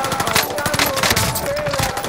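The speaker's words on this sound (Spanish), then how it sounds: "qué raro los disparos de ese men" Rapid automatic gunfire from the Warzone video game, a dense continuous burst of shots filling the clip at steady loudness, with busy in-game noise around it and no clear talk over it.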